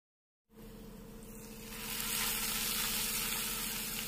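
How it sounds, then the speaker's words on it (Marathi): Hot spiced oil tempering is poured over dal palak, bursting into a sharp sizzle that swells louder within a second or two and then holds as a steady, crackling hiss. "ही कडकडीत फोडणी आपल्याला डाळीवर टाकून घ्यायची आहे"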